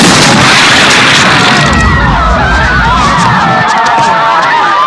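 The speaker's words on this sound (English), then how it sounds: "probably the master head explosion in horror, David Cronenberg's Scanners" An exploding-head scene from David Cronenberg's horror film Scanners, with a dense, roaring burst swelling into a loud, sustained rumble, layered under crowd-like noise and warbling tones for the full five seconds.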